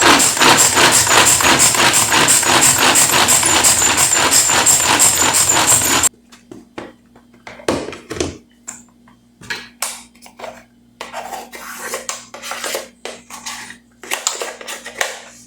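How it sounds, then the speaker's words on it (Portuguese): A mini food processor whirs loudly with a fast, rhythmic chop as it minces ginger and garlic cloves, then stops abruptly, followed by scattered clacks and knocks of the plastic bowl and lid being handled. "E vou triturar aqui no meu mini processador."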